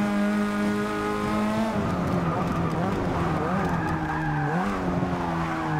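A race car in the Forza Motorsport 6 video game drops its engine pitch under braking and skids with tire squeal, loud and steady, with a player talking over it.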